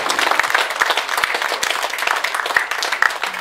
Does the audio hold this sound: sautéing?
no